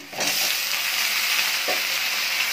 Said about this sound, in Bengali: টমেটোটা দিয়ে আমি ভালো করে ভেজে নেব।